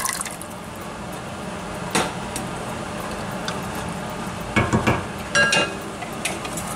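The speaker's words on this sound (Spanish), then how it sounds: "Añadimos los garbanzos." Chickpeas tumble into a cooking pot of water with bay leaves over high heat, making a few short splashing, clattering bursts against a steady background hiss.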